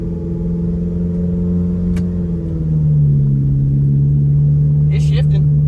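A junkyard Nissan Altima's engine idles with a loud, steady hum, the pitch stepping down partway through as the transmission shifts in limp mode, with a few faint clicks near the end.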